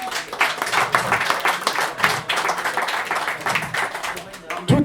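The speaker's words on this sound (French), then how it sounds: "vous pouvez les applaudir, hein, c'est des jeunes." An audience at a conference claps for a group of young partners, a crowd of hands pattering steadily while people talk over and through the applause.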